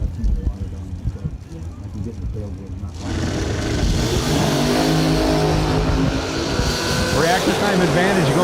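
A supercharged drag racing car at a bracket race launches with a roaring, rising engine howl. An announcer's voice talks over it throughout.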